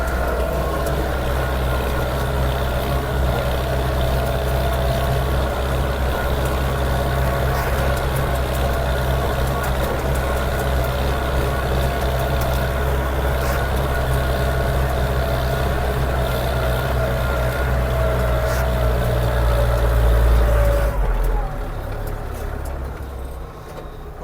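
A Scout 404 mini tractor pulling a plough through garden soil, its engine droning steadily at constant revs close by for most of the time before the note drops and fades near the end.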